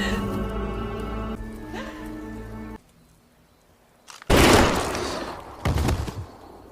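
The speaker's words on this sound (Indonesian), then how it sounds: "Walau Ruiz menembaknya" Gunfire in a film scene comes as a sudden loud blast after a stretch of tonal music and near-silence, followed moments later by a second, shorter loud burst.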